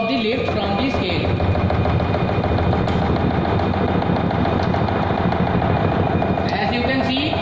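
A governor apparatus runs at raised RPM on an improper foundation, giving a loud, steady mechanical rattle and clatter with heavy vibration throughout, plus a few brief knocks near the start and end.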